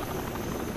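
A helicopter in the video game Rainbow Six: Vegas 2, heard as a loud, close, steady rotor roar filling the whole brief moment.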